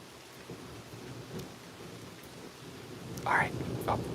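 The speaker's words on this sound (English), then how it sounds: "we gotta wait for this thunder to pass." Distant thunder rumbles low beneath steady rain during a nighttime rainstorm on a walk, a soft continuous wash with a faint swell near the end; no one speaks.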